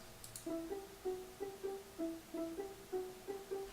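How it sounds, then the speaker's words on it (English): Soft, clean plucked string notes repeat in a steady, evenly spaced pattern, quiet and dry, with no voices. "it's sort of a string plucky sound"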